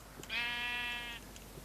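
A single sheep bleat from the video game Minecraft, one clear wavering call of about a second, moderately loud over a faint background hum, with no talk.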